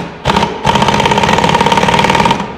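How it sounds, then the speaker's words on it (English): A pneumatic air impact gun running on a snowmobile track wheel during hub, bearing and drive sprocket work, heard as a loud, close, steady buzzing rattle that starts with a short burst, then runs continuously for about two seconds before stopping. "we're going to take the air gun,"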